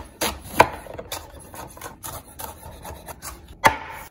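A knife chops vegetables for a stir fry on a board, giving a few irregular taps and scrapes with two sharper strikes, close and fairly quiet, with no talk.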